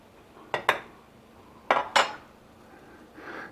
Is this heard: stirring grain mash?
yes